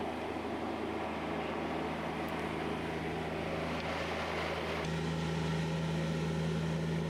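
A Bobcat-mounted auger on a modified frame drills a post hole through rocky ground, a steady loud hydraulic drone with a rising tone near the end, grinding texture underneath.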